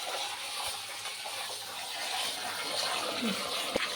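Rice soaked in water being rinsed by hand, a steady wet swishing and sloshing with a few splashes and a sharp knock near the end, close by with no talking.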